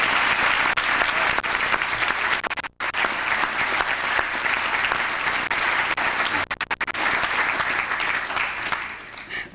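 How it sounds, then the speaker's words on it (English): Sustained audience applause at a youth sports volunteer recognition event, dense steady clapping from a large crowd that briefly cuts out, then resumes with a few scattered gaps. "Please give me a round of applause."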